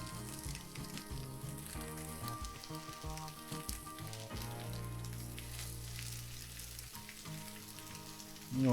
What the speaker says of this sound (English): I'm gonna lay these in here. You start to hear them sizzle.